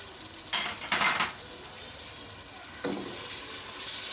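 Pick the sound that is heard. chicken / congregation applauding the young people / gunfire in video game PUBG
chicken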